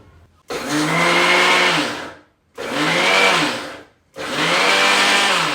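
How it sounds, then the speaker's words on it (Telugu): A mixer grinder grinds ingredients dry with no water in three loud pulses of about one and a half seconds each, the motor whirring up and cutting off with short silences between. "పదండి రుబ్బి చూపిస్తా. జార్ను మిక్సీకి ఫిట్ చేసుకొని"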